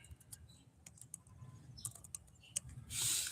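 Close, light tapping on a computer keyboard, a quick irregular run of key clicks followed by a brief louder burst, with no voices.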